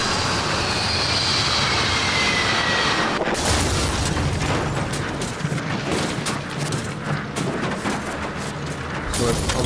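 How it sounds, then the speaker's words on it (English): A plane crashes in the video game The Forest, a roaring rumble that builds into a loud booming, clattering impact with sustained crashing noise and scattered bangs over several seconds. "Obviously crashing a plane here."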